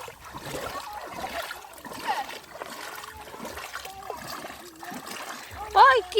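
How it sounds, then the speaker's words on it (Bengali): People wading through floodwater on a submerged village road after heavy rain, with repeated close sloshing splashes of steps through water while several people talk over them. "অনেকটা জল পেরোতে হচ্ছে।"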